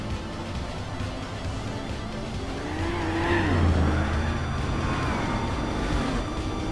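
A big-block Buick Custom in the Gran Turismo 4 racing game, its tires spinning and squealing at speed over a steady engine roar, with a rising skid tone in the middle.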